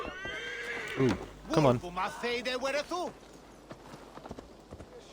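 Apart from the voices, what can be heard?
horse neighing and galloping in Assassin's Creed Valhalla video game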